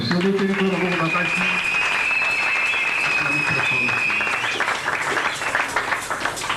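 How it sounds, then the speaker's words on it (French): Church congregation applauding loudly at a prosperity seminar, a dense sustained wash of clapping that fades slightly toward the end, with voices and a held tone mixed in beneath. "Acclamez très fort."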